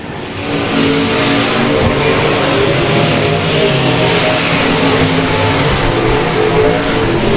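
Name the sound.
dirt track race car with KSG racing engine revving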